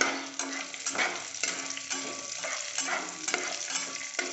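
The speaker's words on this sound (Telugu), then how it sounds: "బాగా ఫ్రై చేసుకోవాలి" Green chilies, cumin seeds and curry leaves fry in hot oil in a pan, a continuous close sizzle broken by repeated scraping stirs, with no voices.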